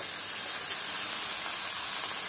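Radish leaves dropped into onions frying in a pan for sambar give off a loud, steady, hissing sizzle with no pauses.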